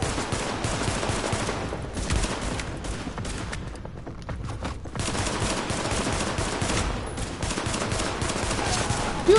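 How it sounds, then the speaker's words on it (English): Pistol gunfire in The Division, a dense, loud stream of shots with overlapping gunfire from a firefight, briefly thinning midway before resuming at full intensity. "I'm gonna test out this pistol."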